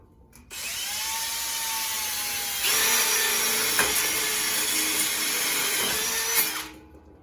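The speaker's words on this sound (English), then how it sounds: "Drill a hole." A power drill boring a hole into wood while building a table and shoe rack, a close steady whine that rises in pitch partway through, runs for several seconds, then cuts off abruptly.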